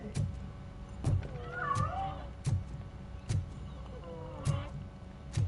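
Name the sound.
cat in a video game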